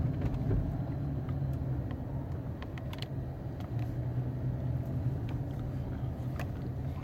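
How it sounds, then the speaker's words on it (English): A car driving through autumn streets, heard from inside as a steady low engine and road rumble with faint ticks and rattles, moderate and continuous without talk. "I am driving"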